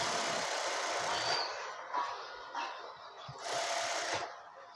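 Sewing machine stitching a shirt collar in short bursts, a quiet close whirring hum that starts and stops several times as the fabric is guided along.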